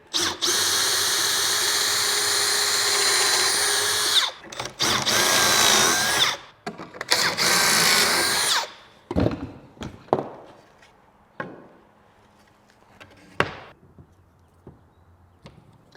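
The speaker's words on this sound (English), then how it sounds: "go ahead and put some Kreg Jig holes in here" A drill bores pocket holes with a Kreg Jig during an interior Smartside garage build, whining loudly in bursts with brief stops for about eight seconds, then giving way to scattered clunks and handling knocks.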